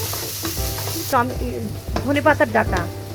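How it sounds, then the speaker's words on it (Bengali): Tomato slices frying in a pan for chicken curry masala give a hissing sizzle that cuts off abruptly after about a second, followed by a voice talking over faint pan sounds. "টমেটো এখানে আমি 3টা নিয়েছি। ঢাকনা দিয়ে আমি 3-4 মিনিট ভেজে নিব।"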